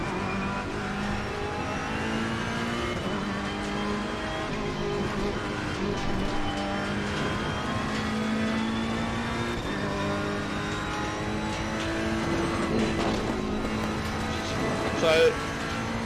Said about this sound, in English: So this evening I've driven exclusively just in the Ferrari and exclusively in ACC